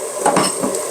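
Roast stock base diluted in a glass of water being stirred, giving a brief scraping, clinking swirl of a utensil against the container, close and fairly loud, with no one speaking.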